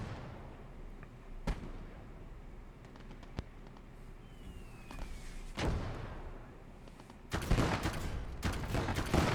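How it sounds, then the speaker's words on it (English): Scattered gunfire in a World War II battle game on the eastern front: single sharp reports at irregular intervals, then a dense, louder burst of shots near the end, over steady battlefield ambience. "Taking some pot shots at the mortar there."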